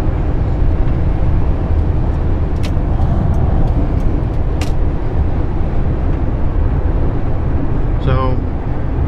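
Manual-transmission car cruising in fifth gear, steady loud engine and road rumble throughout, with a faint squeaky whine near the end.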